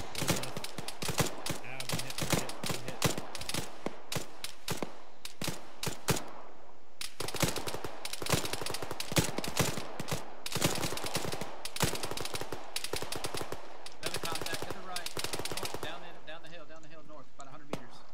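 Rapid video game gunfire in a military shooter, dense bursts of automatic shots and single cracks filling most of the stretch with brief lulls, loud and close, with voices chatting over it.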